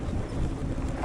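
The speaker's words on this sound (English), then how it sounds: "it's windy" Strong wind buffets the microphone while riding a Wooken e-bike in bad weather, giving a steady, loud, rushing roar for about a second with no speech.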